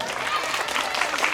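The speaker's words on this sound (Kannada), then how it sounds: "ಬನ್ನಿ ಚಪ್ಪಾಳೆ." Audience applause at a music concert held in memory of Dr. Pandit Puttaraj Gavai, a steady dense patter of clapping with a murmuring crowd mixed in throughout.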